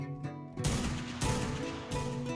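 A player shoots at an animal in ARK Survival Evolved on the Ragnarok map. Three loud, close bursts of gunfire ring out about half a second apart, each leaving a long echoing tail.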